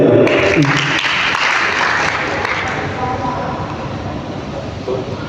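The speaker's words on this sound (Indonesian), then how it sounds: "Tepuk tangan untuk beliau" At a regional coordination meeting of district councils, a voice gives way to loud, sustained applause from the assembled crowd, a dense wash of clapping that carries on steadily to the end.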